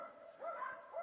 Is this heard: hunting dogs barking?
yes